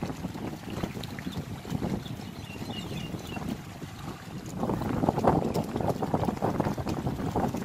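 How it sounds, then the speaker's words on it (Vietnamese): Strong wind gusts and buffets the microphone on a river in Dong Thap, where a fishing boat pulls up nets among floating water hyacinth. The rough, roaring hiss grows louder toward the end. "Mấy bữa nay gió quá trời gió."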